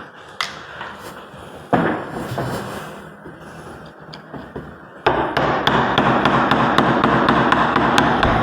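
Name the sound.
hammering on a deadbolt door lock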